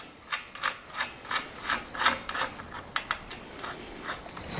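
A nut threaded onto a bolt and tightened while fitting a plate on a custom wooden truck bed for a 1951 Chevy, heard as close, rhythmic ratcheting and rasping clicks in a steady series, with no voices.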